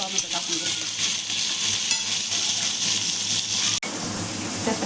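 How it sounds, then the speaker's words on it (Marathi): Onion and tomato frying in a pan for a paneer and green peas curry, giving a steady, loud, close sizzle with stirring throughout and a brief break near the end. "कांदा झाला त्याच्यानंतर मी टोमॅटो टाकून घेतलं"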